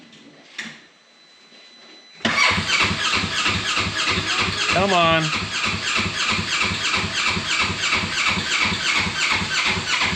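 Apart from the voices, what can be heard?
Polaris Ranger 900 XP engine cranking on weak battery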